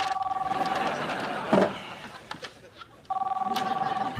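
Two bursts of an electronic telephone ring in a TV sitcom episode, a steady pulsing tone at the start and again near the end, with a short gap of talk and background between them.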